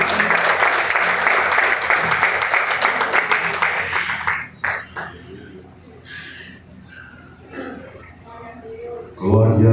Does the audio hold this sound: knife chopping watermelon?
no